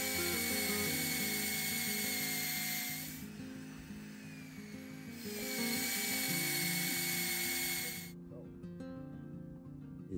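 A power drill bores a tap hole into a tree in a forest, whining with a steady mechanical grind, pausing briefly then resuming before stopping near the end, close and fairly quiet.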